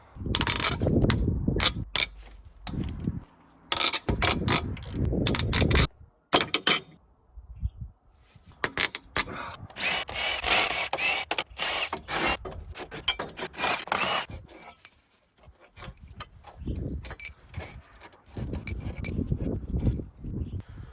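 A wrench loosens the head bolts on a Peugeot XUD9 diesel engine from a Bobcat 751 skid steer, giving irregular close metallic clanks, ratchet clicks and clinks in bursts separated by brief pauses.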